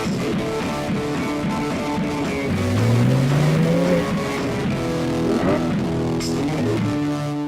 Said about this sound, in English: The 911R on sport mode actually will do the blip for you.